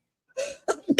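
A single quick sneeze, close and fairly quiet, with a sharp breathy burst after a short intake and no talk around it.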